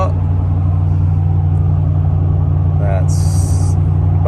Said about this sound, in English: You just hear a little bit of rumble coming from back there.